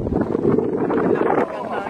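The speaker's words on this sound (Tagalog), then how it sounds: "Hangin." Wind blows outdoors, giving a steady, rumbling roar and buffeting that fills the whole clip at close range, easing slightly near the end.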